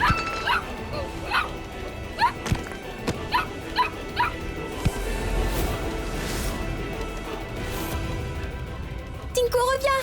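A dog in a French drama series barks in repeated sharp yips and whines, with a crash partway through, over background music and people talking.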